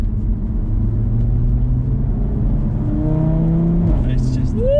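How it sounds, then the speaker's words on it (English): Audi RS3 hot hatch accelerating on the road, its five-cylinder-style exhaust rumbling loud and close, with rising engine tones climbing through gears and a brief rev near the end. "It's like the most exotic sounding hot hatch you can get."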